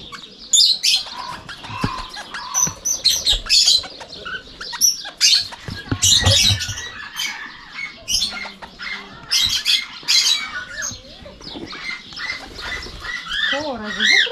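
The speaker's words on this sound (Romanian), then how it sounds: "Aici, tot păsări." Birds at a zoo chirp, squawk and call in a busy overlapping mix, with wing flaps and people talking in between.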